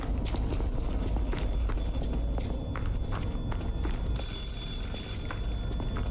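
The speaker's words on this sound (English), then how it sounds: "A phone call here?" A telephone rings in the Lies of P video game, a thin, high electronic trill that repeats through the clip. It sits faintly over a busy, rumbling game soundscape, with a brighter tone entering near the end.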